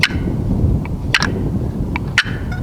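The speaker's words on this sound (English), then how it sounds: "if you want to cluck with a box call, you turn your paddle in 45 and you bring it and you scoop it up" Turkey-hunting box call worked with the paddle to make clucks: a few sharp, sparse, close clucking notes over a steady low background rumble.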